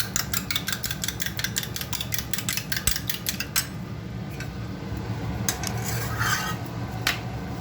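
A fork rapidly beats salted eggs in a bowl for an egg roll, a quick, regular clatter of taps for a few seconds, then a pause followed by a few scattered clinks over a steady background hum.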